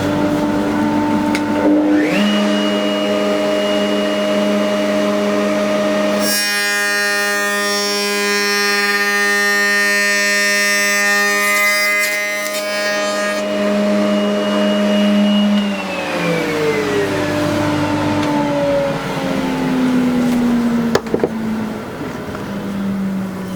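A woodworking router spins up and runs steadily at about its 2 3/4 speed setting, a loud, continuous high whine with strong harmonic tones that shift partway through and then wind down near the end, with no talking.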